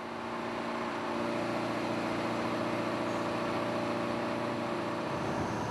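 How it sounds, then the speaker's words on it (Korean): Engine room of a skate fishing boat at sea, with a loud, steady, close machinery drone and hum running unbroken throughout. "소음 가득한 엔진실이다."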